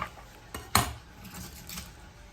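A knife chops fresh collard greens on a board in a home kitchen, giving a few quiet, irregular thuds and one sharper knock.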